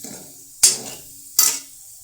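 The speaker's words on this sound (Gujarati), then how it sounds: "પછી મરચું નાખીને આમ સારી રીતે હલાવી લેવું" A spoon scrapes twice through thick potato curry in a pan, two short rasping strokes with a soft background hiss between them.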